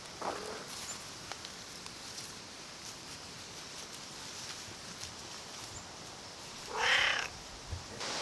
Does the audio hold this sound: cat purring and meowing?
yes